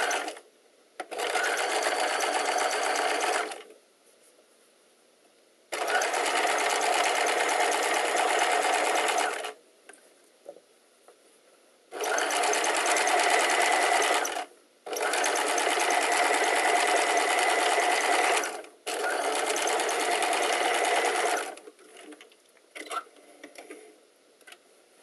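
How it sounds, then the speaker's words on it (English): A sewing machine stitches along the outside edge of a collar facing in several long, steady bursts of rapid whirring, with short quiet pauses between them. "the very last thing that we will sew is with the facing front face out"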